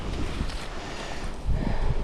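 Steady wind buffeting a microphone outdoors on a coastal island in Maine during a bike trip, a continuous low rumble that swells louder near the end.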